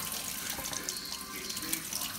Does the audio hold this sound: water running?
yes